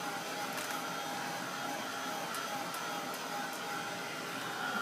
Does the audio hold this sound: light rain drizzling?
no